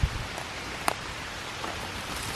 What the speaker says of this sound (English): It's kind of starting to rain a bit heavier now